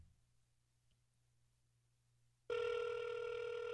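A phone on an outgoing call starts a steady electronic ring tone after a quiet hum, loud and close, continuing to the end without pauses.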